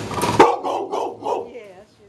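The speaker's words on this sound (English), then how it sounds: "Mr. Brown, you've got the biggest head I've ever seen on a dog" A big dog in a small cage gives one sharp bark followed by a few softer woofs and whines, close and loud, with a person talking nearby.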